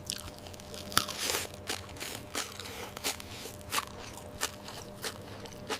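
Someone chews crunchy cinema popcorn close up, with a series of irregular crisp crunches and soft crackles at a quiet level.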